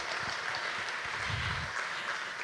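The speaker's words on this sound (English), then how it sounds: "Everybody give Zeb a round of applause" An audience claps at a college summer orientation session, a faint, steady patter of many hands heard from a distance with no voices over it.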